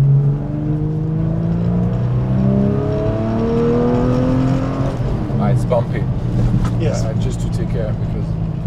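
A Porsche 911 drives along a bumpy road with a steady, loud engine drone and rumble from inside the car, and a person talks over it in the second half.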